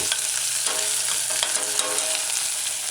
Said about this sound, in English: add your chopped scallion, stir it in a few times, allow it to saute